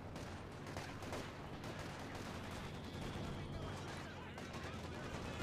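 Rapid DP-28 machine gun bursts in a video game, a steady crackle of shots mixed with other gunfire that stays faint and continuous throughout.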